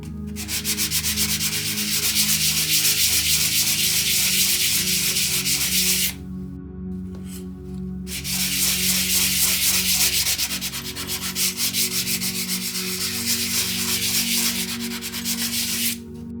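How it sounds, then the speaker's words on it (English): Steady abrasive rubbing of sandpaper across a laser-engraved piece, loud and close, continuing with one short pause partway through and no talking. "Now let's go ahead and sand the other piece out of curiosity."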